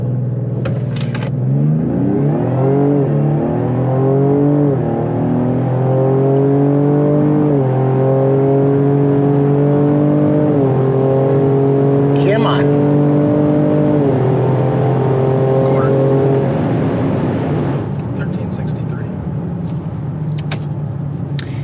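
A 2025 Ford Explorer ST in sport mode revs up loudly and accelerates, its engine note climbing through several rising sweeps before cutting off near the end, close and sustained.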